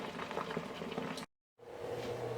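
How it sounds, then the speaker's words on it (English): Haitian griot pork frying in a deep fryer at 350 degrees, a steady dense bubbling sizzle that cuts out briefly midway before resuming just as loud. "Now you can let that fry for about 9 to 11 minutes on a 350 degree."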